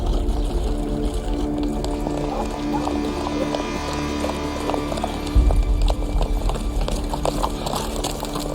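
Horse hooves clip-clop steadily on a hard surface, several animals moving at a walk with a continuous low rumble underneath.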